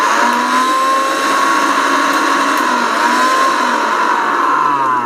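An electric blender said to spin at 26,000 rpm runs steadily at high speed, a loud, continuous motor whine with no pauses and no talking over it.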